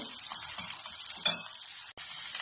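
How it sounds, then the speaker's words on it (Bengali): Steady, crackling sizzle of onions frying in hot oil over low heat, close by, with one brief click near the end. "পেঁয়াজটা দিয়ে আমি অল্প আঁচে ভালো করে ভেজে নেব"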